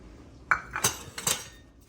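Raw shrimp and a beaten egg mixed in a bowl for shrimp in pineapple honey sauce, with a few sharp clinks of a utensil against the bowl and soft stirring between them, close up.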